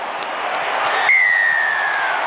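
A stadium crowd at a rugby league grand final roars steadily while awaiting a try decision, a dense sustained wall of cheering and applause with a brief whistle-like tone cutting through partway.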